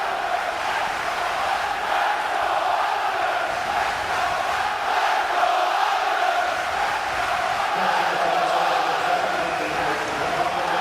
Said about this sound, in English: They even cheer offsides